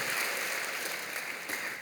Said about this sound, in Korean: 여러분 크게 박수로 환영하십시오